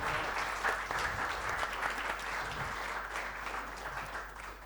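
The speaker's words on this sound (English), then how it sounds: "Round of applause to these guys." An audience at a workplace debate event applauds the panel and host with steady, fairly distant clapping that fades slightly toward the end.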